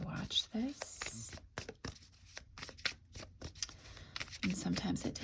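A deck of cards is shuffled repeatedly in close, crisp riffling bursts separated by short pauses, with soft speech in between.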